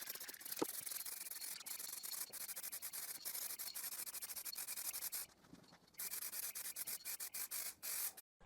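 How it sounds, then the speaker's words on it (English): Varnish is brushed onto the outside of a wooden box: quiet, repeated scratchy strokes in a steady rhythm, with a short pause and brief breaks between strokes near the end. "I clean the dust and I varnish the outside."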